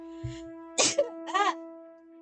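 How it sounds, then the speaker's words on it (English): A single short sneeze, quiet and nearby, over a steady electronic hum, followed by a second burst like a sniff or cough, with no talking. "I just sneeze"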